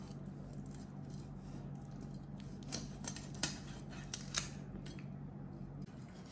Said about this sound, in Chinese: 接下来我们把鱼给它打上菱形花刀，像这样用刀一弯，再往里面一推